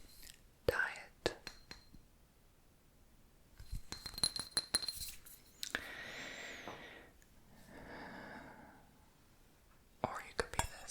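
A glass bowl is tapped and handled close up in a quiet ASMR setting, producing bright scattered clinks and chimes between stretches of soft whispering.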